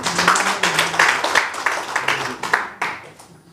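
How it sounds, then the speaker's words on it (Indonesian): A church congregation clapping for God after a Christian sermon, uneven rhythmic claps from a crowd that rise and fall over a few seconds, with voices talking over them. "yang bisa berikan tepuk tangan buat Tuhan."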